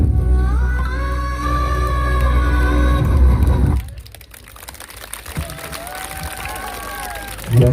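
Audience clapping and cheering after a dance crew's performance at a stage event, loud and sustained at first, then dropping off abruptly partway through as scattered voices and a quieter crowd remain.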